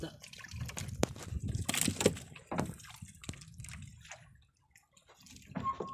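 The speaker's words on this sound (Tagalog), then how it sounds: "Talon-talon pa po yung isda." Fish jumping and splashing in the water during longline fishing, several irregular slaps and splashes at varying loudness, partly under nearby voices talking.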